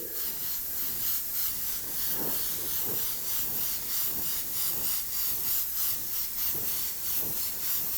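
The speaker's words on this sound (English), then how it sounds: "I blow air on it and it flashes off" An airbrush blows a steady stream of air to flash off freshly sprayed green candy paint, a continuous close hiss with faint rhythmic pulsing throughout and no talking.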